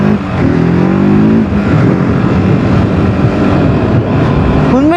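TVS Apache RTR 310 motorcycle engine revving hard under throttle, loud and close, with rising pitch sweeps at the start and again near the end over a steady roar.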